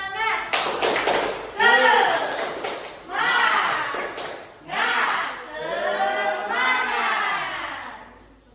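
A classroom of students doing the 'tepuk semangat' rhythmic clapping ice-breaker, with groups of claps and taps in a patterned rhythm mixed with chanted voices in bursts, loud and close.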